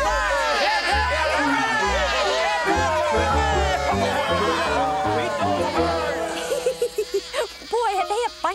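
A cartoon army of animals cheers loudly for General Bear in the fable of the wren and the bear: many overlapping voices shout together, then thin out near the end into scattered, choppy calls.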